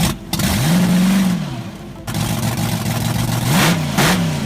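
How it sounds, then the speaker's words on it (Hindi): An old drag racing car's engine revs hard and close, rising and falling in loud pitch sweeps with a brief dip near the middle, with no talk over it. "इसके इंजन की आवाज को सुनकर समझ आता है कि ये पुरानी कार अभी भी नौजवान नस्ल को दिखा सकती है कि असल में स्पीड क्या होती है।"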